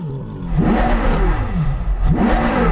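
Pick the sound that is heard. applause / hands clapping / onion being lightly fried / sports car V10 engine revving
sports car V10 engine revving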